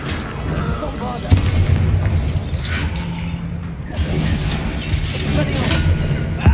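A Bombarda spell in Hogwarts Legacy detonates with booming blasts and shattering debris amid mechanical clanks and combat effects, loud and close, with a voice calling out over it.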